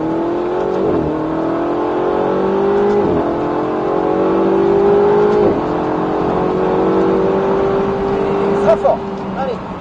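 A Ferrari 488 GTB accelerates hard on a track, its engine note climbing steadily through the gears with brief dips at the shifts. The sound is loud and continuous, with a voice heard faintly over it.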